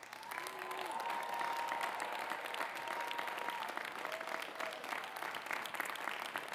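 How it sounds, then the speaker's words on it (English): Graduates at a master's commencement applaud their family and friends, a broad sustained roar of clapping from a large crowd, fairly distant, with faint voices and cheers woven through. "And can you all give your family and friends a real loud round of applause?"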